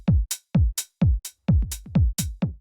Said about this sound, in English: And next up is this open hi-hat.